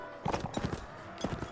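Horse hooves clopping in the Mount and Blade Warband video game, a quick series of close, fairly loud thuds in two short bursts.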